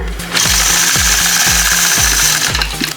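A sewing machine runs fast and loud while quilting curves guided by a ruler, its needle thumping in a rapid, steady rhythm for about three seconds with a whirring motor underneath.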